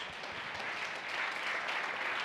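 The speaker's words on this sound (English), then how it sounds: "Big round of applause." Applause from a large keynote audience, a steady, dense roar of many hands clapping at a distance, holding even and full for a couple of seconds.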